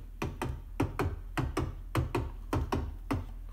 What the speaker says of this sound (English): a beat or a swinging beat typically has every other hit a little bit delayed.